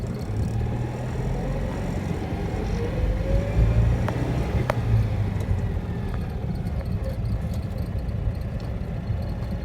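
Citroen 2CV engine with the roof folded open, heard while driving: a steady moderate engine drone blended with wind and road noise, broken by a couple of brief clicks, with no talking.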